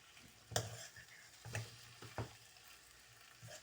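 Masala okra is stirred in a pan, producing a few quiet, separate scraping strokes over a faint sizzle, with no voices.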